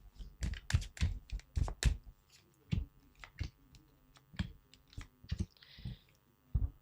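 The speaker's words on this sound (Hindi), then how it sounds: "अच्छे से मैं इसको शफल कर देती हूँ।" Tarot cards shuffled by hand, with a rapid series of crisp slaps and clicks in uneven bursts, then scattered taps and a soft riffle, close and clear.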